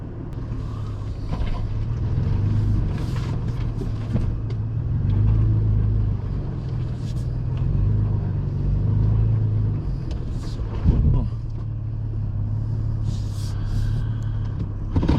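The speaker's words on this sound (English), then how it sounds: "Hopefully that would help me drive over the tree stump." Toyota FJ Cruiser working off-road at Elbe Hills OHV trail in Washington, its engine rumbling steadily and loudly up close as it tries to climb over a tree stump, with a brief louder surge partway through.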